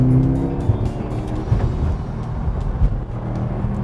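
A 2015 Subaru WRX STI is driven hard through curves, its engine droning steadily with faint tire noise and brief surges, close and fairly loud with no talk.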